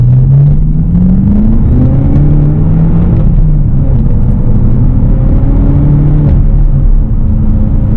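A BMW M6 Competition Coupe with a 6-speed manual revs and pulls away from a start in second gear, rising in pitch, loud and close with a steady low rumble.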